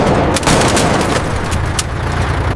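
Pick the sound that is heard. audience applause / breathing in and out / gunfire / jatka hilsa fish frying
gunfire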